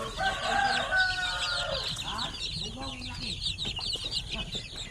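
Shamo aseel chickens and month-old chicks in a poultry pen cluck and chirp busily up close, with rooster-like calls and layered bird chatter throughout.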